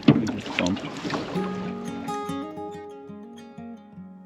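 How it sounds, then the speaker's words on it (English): A family paddles an open canoe on the Rogerstown tidal estuary in Ireland, with a brief burst of close splashing water at the start followed by a tonal, voice-like passage. "Okay, paddle forward now, guys."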